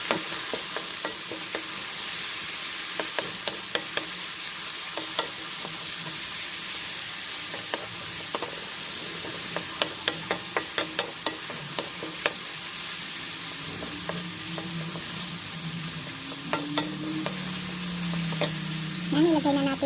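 Garlic, onion and tomato sauté in a pan with a continuous sizzle and frequent sharp clicks of a utensil stirring, then a lower, fuller frying tone as the tomatoes go in.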